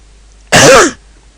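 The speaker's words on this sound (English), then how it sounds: "I tried to pause that cough out, sorry about that" A single short, sharp cough close to the microphone, surrounded by near silence.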